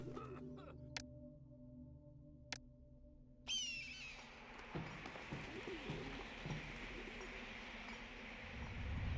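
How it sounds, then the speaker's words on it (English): Birds calling in the 1999 city-building game Pharaoh, with a few sharp chirps early on, then a busy wash of overlapping cooing and calls over a steady ambient hum. "Stupid birds."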